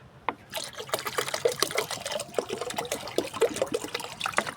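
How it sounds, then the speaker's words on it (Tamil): Banana solution, left to steep for two to three days, poured into water for watering a guava plant: a steady close splashing and trickling stream that runs without a break. "இதை தண்ணியில் ஊற்றணும்."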